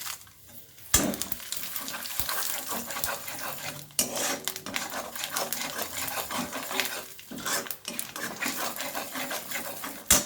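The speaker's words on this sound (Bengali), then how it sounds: "এখন আমি ফোড়ন দিয়ে দেবো শুকনো লঙ্কা, গোটা জিরে, তেজপাতা আর এলাচ আর দারচিনি" Whole spices (dried red chillies, cumin seeds, bay leaves, cardamom, cinnamon) tempered in hot oil over caramelised sugar for a prawn curry, a steady close sizzle broken by clattering stirs of a spoon against the pan.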